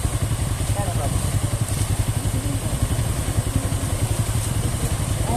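A brand-new motorcycle engine idles and putters steadily and close, with a loud, continuous rhythmic chug near a waterfall.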